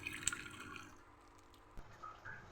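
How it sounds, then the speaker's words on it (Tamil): Cooked sago (tapioca pearls) drained through a strainer, with faint, quiet drips and trickles of water and a couple of soft wet splashes, close and alone. "ஜவ்வரிசியை வடிகட்டிடலாம்."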